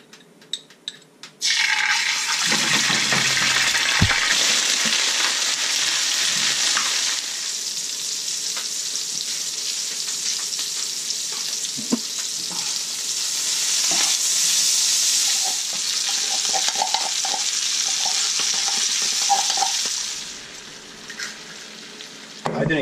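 Garlic sizzles and fries in a hot pan in a home kitchen, a steady bright crackle that holds for about twenty seconds, with occasional stirring scrapes and light clinks, then it drops off near the end.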